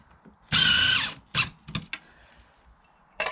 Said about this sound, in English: So then just quite simply get one screw in first.